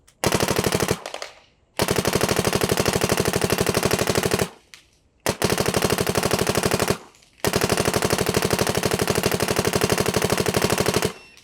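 A Luxe Idol paintball marker with a Super Stanchy Customs bolt fires brittle tournament paint in long, rapid, loud volleys of shots, broken by brief pauses between strings.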